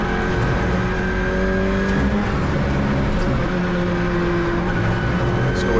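Onboard a rear-engined Alpine A110 Cup race car lapping the Nogaro circuit, the engine drones loudly and continuously with rising and falling tones, mixed with road and wind roar from inside the cabin.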